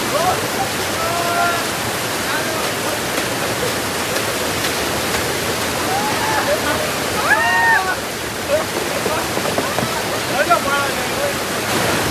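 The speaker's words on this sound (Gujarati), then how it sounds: "આ ઝરણું છે આમ જોરદાર" A mountain stream near Jatashankar temple on Girnar rushes in a steady, loud, close roar of flowing water, with people talking over it at intervals.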